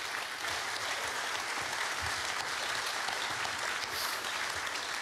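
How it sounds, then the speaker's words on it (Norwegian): A debate audience applauds as panelists are welcomed, sustained even clapping from a seated crowd, fairly distant and soft, continuing steadily throughout without speech. "så gir dem en applaus"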